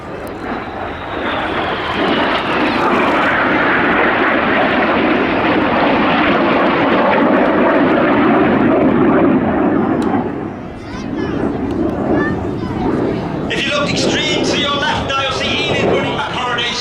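Red Arrows Hawker Hawk T1A jets roar loudly during a flying display at an air festival, a sustained close engine rush that dips briefly before surging again. An announcer talks over the noise throughout.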